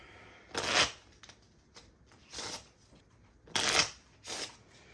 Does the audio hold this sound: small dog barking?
no